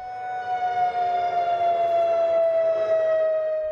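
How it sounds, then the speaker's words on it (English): Tsunami warning siren in Kodiak, Alaska, a loud steady wailing tone holding one sustained pitch throughout, sounding alone without voices. "Do you hear the sirens when they go off on Wednesdays?"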